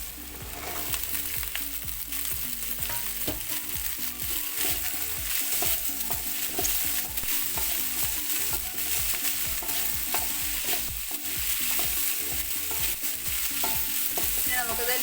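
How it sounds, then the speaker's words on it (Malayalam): Beans fry in a pan for a Kerala-style mezhukkupuratti, a continuous bright sizzle overlaid with repeated scraping and clacking of a spoon stirring against the pan, close up and without talking. "ഇനി നമുക്ക് ഇതിലേക്ക് ബീൻസ് ഇട്ട് കൊടുക്കാം"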